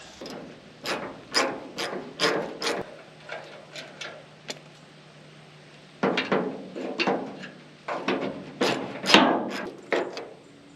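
Hand tools work an emblem off a 1969 Buick Wildcat with rapid ratcheting clicks in short, loud bursts up close, a quiet pause midway, then more clustered bursts.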